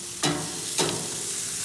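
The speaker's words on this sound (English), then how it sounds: "listen to that sizzle" Vegetables sizzle in a grill vegetable pan with a steady crackle and two sharp bursts of louder hissing as they are stirred or moved.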